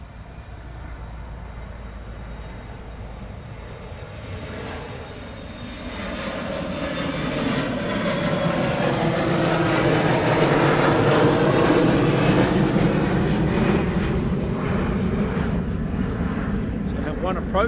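Airplanes at East Midlands Airport at night, one on approach and one taxiing, make a continuous jet engine roar that swells louder midway and holds steady, heard from a distance with occasional talk over it.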